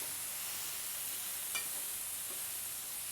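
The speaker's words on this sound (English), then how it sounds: "hopefully you can hear the sizzle" Steady, soft sizzling of mahi mahi on a hot grill, a continuous crackling hiss with one brief sharper pop partway through; no voices.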